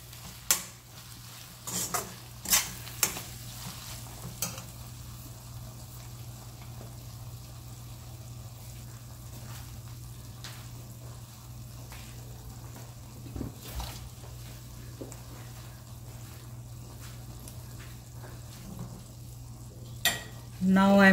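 Spices and aromatics frying in coconut oil for a South Indian drumstick fry, a soft steady sizzle with scattered scrapes and clinks of a spoon stirring the pan.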